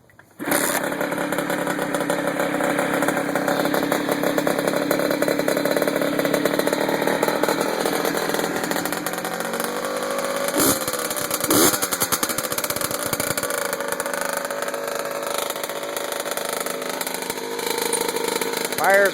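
A 2001 Kawasaki KX60 dirt bike engine fires up and runs close by, a loud buzzing two-stroke drone with revving swells and dips over nearly twenty seconds, while someone talks over it.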